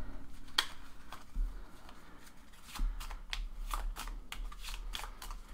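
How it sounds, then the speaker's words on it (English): A stack of cards being shuffled by hand, with quick riffling bursts and soft shuffles repeating over several seconds, close and fairly quiet with no talking. "I'm going to shuffle all these cards up"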